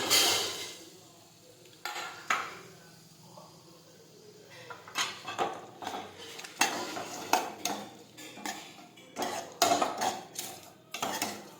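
Chopped onions and tomatoes sautéed in a pan for urad dal, a low background sizzle under frequent metal spoon clinks and scrapes against the pot, irregular and close, with no talking.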